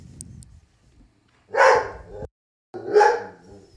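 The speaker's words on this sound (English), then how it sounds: "Cute little puppies." Two short bursts of small puppies barking or yipping, close and fairly loud, separated by a brief pause, with a faint murmur before them in an indoor podcast setting.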